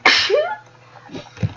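A single sharp, close sneeze bursts out, followed by brief quiet breathing sounds.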